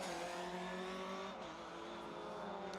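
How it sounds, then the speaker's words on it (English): A 1300cc Ford Ka rally car climbs a mountain stage, its small engine held at a high, strained rev in one continuous drone, loud and fairly close throughout. "Hard-charging Ford KA of Ian Barnes and Devlin Johnson. Only 1300cc,"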